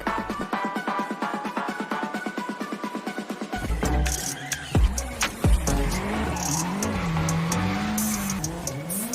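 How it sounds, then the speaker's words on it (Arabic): A car driven at record speed on two wheels, around 116 mph, roars loudly with tire squeal and skidding, coming in after a few seconds of rhythmic beat. "ده الرقم القياسي العالمي لموسوعة جينيس لأسرع سيارة على عجلتين، 116 ميل في الساعة"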